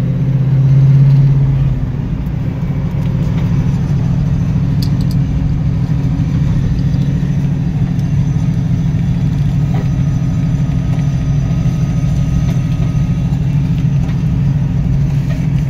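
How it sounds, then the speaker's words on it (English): A 1965 Mustang fastback Shelby clone engine runs at a steady, loud idle for the whole stretch, with a loose fan belt on the engine; a brief swell near the start settles into an even, close rumble with no talk. "fan belt's loose, so it makes the squealing noise"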